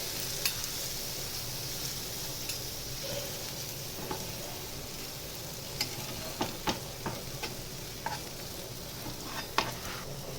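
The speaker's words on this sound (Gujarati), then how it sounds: "અને 2-3 વખત પલટાવીને આપણે તેને ક્રિસ્પી શેકવાનું છે" A pudla sandwich crisping in butter on a hot pan gives a steady, quiet sizzle, with occasional light ticks and taps from a spatula as it is flipped. No one speaks over it.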